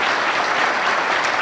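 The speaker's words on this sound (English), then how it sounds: "We owe him a round of applause today" An audience claps at a speech event, a dense, even roar of many hands that stays loud and steady throughout without a break.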